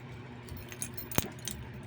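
Honda Beat motorcycle key on its ring giving a brief metallic jingle, with one sharp clink standing out among soft, faint rattles.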